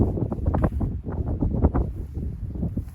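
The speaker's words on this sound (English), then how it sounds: "So much wind, I'm contemplating my choices right now." Strong wind buffets the microphone on a disc golf course beside a lake, in loud, gusty low rumbles that rise and fall throughout, with no voices.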